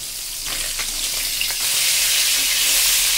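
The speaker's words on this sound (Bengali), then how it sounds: "শিঙি মাছ প্রচণ্ড ফোটে, আরও এর ভিতরে ডিম হয়েছে, তাই জন্য এটা ভাজা আমি করতে লাগি।" Singi catfish with roe frying in hot oil in a pan, a steady close sizzle that swells louder in the second half, with a few soft scraping stirs near the start.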